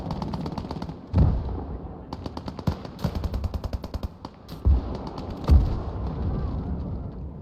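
A Sturmpanzer's heavy gun fires in the WWII game Gates of Hell: Ostfront, mixed with rattling machine-gun bursts and sharp rifle shots; several loud booming impacts land amid irregular, fairly close gunfire.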